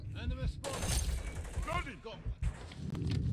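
Gunfire rattles through a Call of Duty MW3 Domination match, bursts of rapid shots and mechanical clatter at moderate level, mixed with game sounds while a player talks over it.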